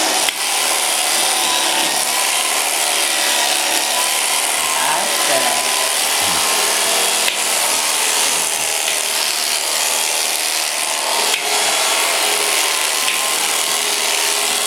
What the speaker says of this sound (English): My clippers, which I introduced to the boys yesterday, are cordless, but they seem to clip just as good as the corded clipper.